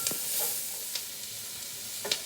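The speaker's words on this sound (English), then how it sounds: "So now I've added 1 onion, and we're just going to let that cook with the bacon a little more" Onion and bacon cook in butter in a pan, giving a quiet, steady sizzle with a few soft clinks and scrapes from stirring.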